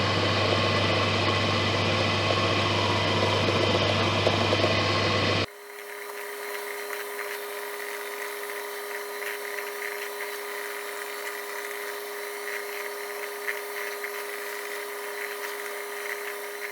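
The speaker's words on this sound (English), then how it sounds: "I'm at my Jones and Shipman precision drill" A Jones and Shipman precision drill runs in a workshop, a loud steady motor whine with a strong low hum for about five seconds, then cutting off abruptly to a quieter room tone carrying a faint steady tone.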